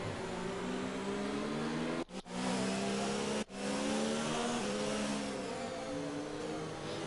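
Race cars in a Formula-style racing video game on the Hungary circuit pull away from the start, engines droning loudly and steadily with rising harmonic whine, briefly cutting out twice, no voices over the pack.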